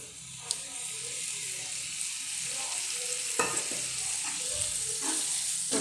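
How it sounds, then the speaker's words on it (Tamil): Marinated prawns sautéing in masala in a pan give a steady sizzle, broken by scattered spatula scrapes and stirring clicks, with no one talking. "இறால படுற அளவுக்கு நம்ம வதக்கலாம்"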